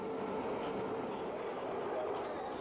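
Steady low rumble and hiss of a moving Jakarta light rail transit train heard from inside a carriage, continuous and even throughout with no clear voices.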